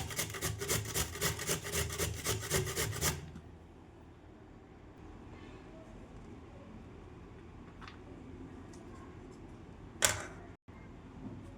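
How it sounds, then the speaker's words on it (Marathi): Beetroot rubbed against a hand grater for a yogurt chutney, giving a rapid rhythmic rasping of about a dozen close strokes over three seconds, then quiet room tone with a brief clatter near the end. "बघा, अशा पद्धतीने छान किसून घेतला मी बीट."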